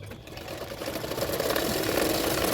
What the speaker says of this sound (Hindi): अभी उसके किनारे किनारे पे सिलाई कर रही हूँ